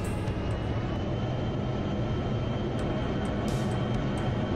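A MiG-21 jet engine roars steadily in the DCS flight simulator game, a loud continuous whine and rumble that holds without a break, with a few faint clicks on top.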